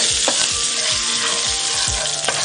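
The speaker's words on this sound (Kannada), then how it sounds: "ಸಾಸಿವೆ ಸಿಡಿಬೇಕು ಹಾಂ ನೋಡ್ರ ಸಿಡಿಯೋಕ್ಕೆ ಶುರು ಆಯಿತು ಪಟ್ ಪಟ್ ಪಟ್ ಅಂತ ಸಿಡಿಬೇಕು" Mustard seeds spluttering with curry leaves frying in hot oil, a loud continuous sizzle dotted with sharp irregular pops and crackles, close and steady.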